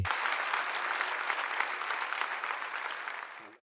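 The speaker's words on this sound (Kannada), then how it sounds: "ನಂಬುವವರು ಜೋರಾಗಿ ಚಪ್ಪಾಳೆ ತಟ್ಟಿ" A church congregation claps loudly together, a dense sustained burst of applause that fills the room for a few seconds and then cuts off abruptly.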